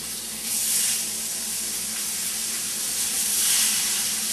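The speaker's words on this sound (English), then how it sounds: "now I'm going to throw it in the frying pan." Continuous sizzling hiss of kielbasa in a hot cast iron frying pan, steady and fairly loud, with a low background hum underneath.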